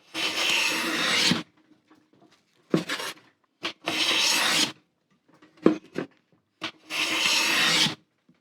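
A very flat hand plane with its iron set for a deeper cut takes shavings from a wooden board. Three close, loud rasping strokes are separated by quiet pauses and small knocks.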